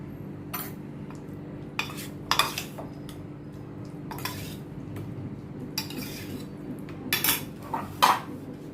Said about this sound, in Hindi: इसमें मैं थोड़ी ये ग्रीन चटनी मैं मिक्स करती हूँ